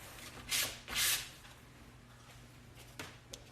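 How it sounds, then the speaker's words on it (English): Two soft, breathy swishes of a paint-loaded brush pulled across paper, followed by a couple of faint light taps in a quiet room. "isn't it very like satisfying to pull the paint across, and that sound is like you're sweeping paint?"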